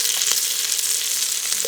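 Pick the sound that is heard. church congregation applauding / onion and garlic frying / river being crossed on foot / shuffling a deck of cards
onion and garlic frying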